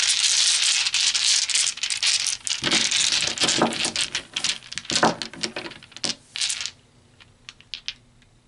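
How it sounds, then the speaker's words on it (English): Dice being pulled and rattled by hand: a close, dense clatter of small clicking hits over roughly six seconds, breaking into scattered taps and one short final rattle before quiet. "So let's pull some dice."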